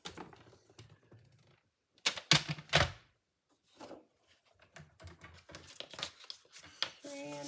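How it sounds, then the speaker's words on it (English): Card paper being scored and creased with a bone folder for a wildflower note card pocket, giving dry scraping strokes and crinkling paper sounds in short bursts with pauses, close and fairly quiet. "score the sides and confirm the fold with your bone folder"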